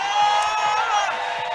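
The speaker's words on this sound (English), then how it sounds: "the crowd's getting behind those two climbers" A crowd at a bouldering competition cheers for two climbers, a sustained roar of whoops and shouts at a loud level, with some voices mixed into the din.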